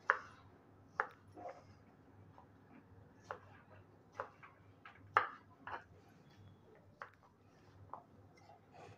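A knife slices through raw banana on a board, making a series of crisp, irregular clicks and taps spaced a second or so apart, close and quiet, with no talking.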